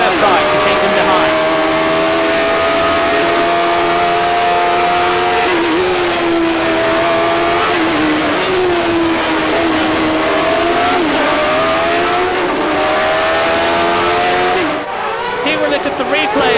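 Roaring Formula 1 engines in a 1989 racing video game, the Lotus of Nakajima among them. Several cars scream close by with shifting pitch as they accelerate and change gear, under steady commentary, then the tone drops and thins near the end.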